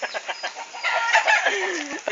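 Chickens cluck and squawk close by in a quick, busy chatter, a bright burst of calls rising in the middle with a low descending note near the end.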